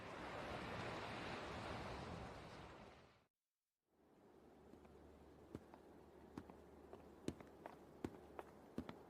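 Ocean surf in an anime episode washes loudly for a few seconds and cuts out. A quieter scene follows with soft crunching steps and light taps over a low background.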